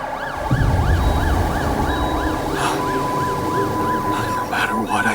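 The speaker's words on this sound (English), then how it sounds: "That's the sound of the police." A police siren in the video game The Alters wails in a steady, rapid up-and-down wobble, loud and close, over a low rumbling game backdrop with a few brief bright accents near the end.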